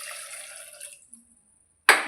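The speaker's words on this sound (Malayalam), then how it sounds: "ആവശ്യത്തിന് വെള്ളം ഒഴിച്ചു കൊടുക്കാം." Water poured into a pressure cooker holding jackfruit seeds with turmeric and salt, a short splashing pour that trails off into near silence before a sudden loud burst of water at the end.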